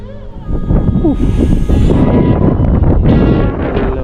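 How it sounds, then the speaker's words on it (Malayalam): Strong, steady cold wind on a hilltop campsite buffeting the microphone with a rough low rumble throughout, loud and close, with faint voices underneath. "നല്ല കോടയും നല്ല തണുത്ത കാറ്റും"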